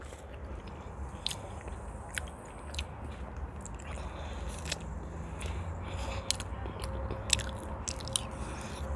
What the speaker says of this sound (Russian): Жуем